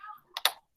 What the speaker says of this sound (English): now we're going to type it in on our calculator